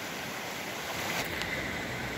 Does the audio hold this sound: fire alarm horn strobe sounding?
no